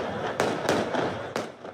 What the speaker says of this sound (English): Fireworks were set off.